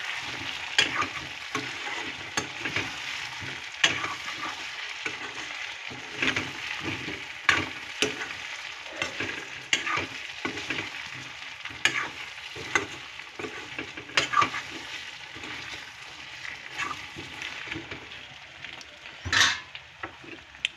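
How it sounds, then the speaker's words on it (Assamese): Potatoes frying in a pan while being stirred: a continuous sizzle runs throughout, with frequent scraping and knocking of a spoon against the metal, close and without talk. "এতিয়া দিছোঁ মই আলুখিনি। আকৌ অকণমান লৰাই দিছোঁ।"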